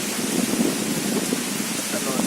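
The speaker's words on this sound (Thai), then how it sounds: "ลมแรงแต่ฝนไม่ค่อยแรง ฝนก็ตกลงนิดหน่อย" Light rain driven by strong wind across a palm plantation in Sakon Nakhon during a storm, a dense steady hiss of gusts and scattered drops, fairly loud and unbroken throughout.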